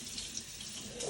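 Tap water runs steadily over salmon fillets being rinsed at a kitchen sink, a close continuous splashing hiss, brief and alone without talking.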